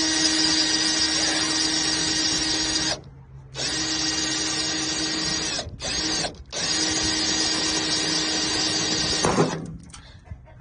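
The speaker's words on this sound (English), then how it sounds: "I'm gonna try to drill a hole in there." A power drill bores a hole through the plastic wall of a rain barrel, a loud steady whine that runs for about three seconds, breaks off briefly, resumes with two short stops near the middle, then runs on before winding down.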